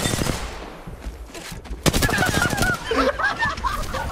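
Wingman pistol shots in the video game Apex Legends, with heavy cracks and rapid gunfire from the fight layered over game effects, loud and close throughout.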